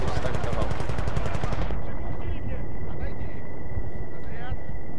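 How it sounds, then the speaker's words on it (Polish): Mounted stationary machine gun in Battlefield: Bad Company 2 on the Port Valdez map fires a rapid, loud burst of shots for under two seconds, then gives way to steady battle rumble with a thin high tone. "Broń stacjonarna, karabin. Dobry pomysł."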